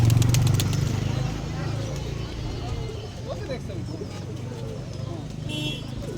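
An old, big-sized racer pigeon coos softly on an abandoned rooftop loft amid other pigeons, its low murmuring running continuously under a steady background hum, with people talking over it.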